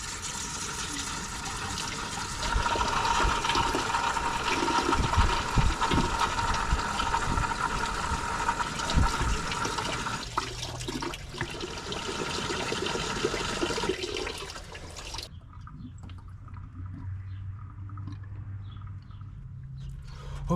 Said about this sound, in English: I pulled off this heater core hose and just started jamming water through this top nozzle. And real mucky water is coming out of this hose.